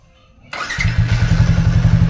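A Yamaha Sniper 155 motorcycle on its stock engine with a recalibrated ECU fires up after a brief silence, then settles into a loud, steady, close idle with an even pulsing rhythm.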